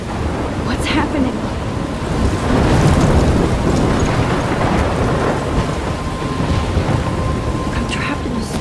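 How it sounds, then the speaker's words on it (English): A thunderstorm in the video game Life is Strange, with steady heavy rain hissing throughout and low thunder rumbling up loudly around the middle. A faint voice comes through briefly. "I'm trapped in a storm?"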